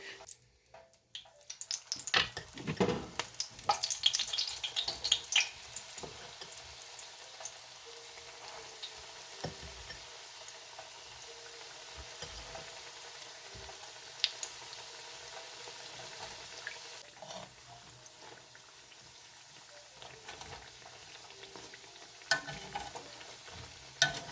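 Store-bought-mix dumplings dropped into oil in a pot, with a few loud clattering knocks at first, then a steady low frying sizzle with occasional small bumps and crackles.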